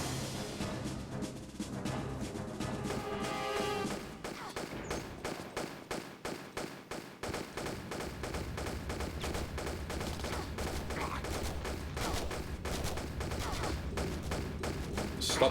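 Rapid bursts of gunfire aimed at the player in Tomb Raider Chronicles, a dense run of sharp shots with a pause in the middle, under game music and background sound.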